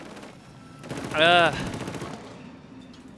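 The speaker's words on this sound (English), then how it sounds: "I have a guy shooting at me" Rapid gunfire rattles in the shooter game Killzone Shadow Fall, a burst of shots peaking near the middle over game noise, while a man groans briefly.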